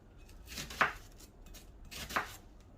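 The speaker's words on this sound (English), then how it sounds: "there's my onions. Just going to chop them up." A knife chops onions on a board with two distinct thuds about a second apart, soft and close.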